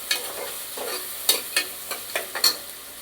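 Onion and tomato fry in a pan for a biryani masala, a soft sizzle under light scraping stirs that come as several quick, close strokes.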